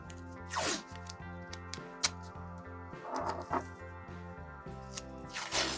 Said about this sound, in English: So we get the old masking tape trick.